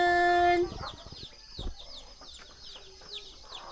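Chickens cluck and chirp in a farmyard, starting with a brief loud tone, then scattered bird calls over a low background.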